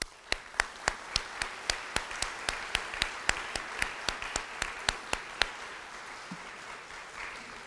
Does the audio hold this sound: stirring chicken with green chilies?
no